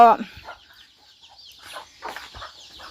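Chickens cluck in short, scattered bursts close by, with quiet pauses between calls.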